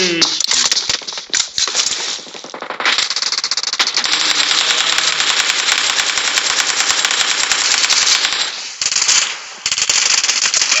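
Rapid, loud automatic gunfire from the video game PUBG rattles in long continuous bursts with brief gaps between volleys, harsh and close, with the game's audio dominating.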